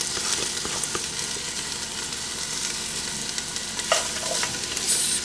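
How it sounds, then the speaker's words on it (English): Peppers sizzle in a teaspoon of avocado oil inside a Dutch oven, a continuous bright crackle close by, broken by occasional soft scrapes and taps as they are stirred. "Stir them around, make sure they get coated with the oil."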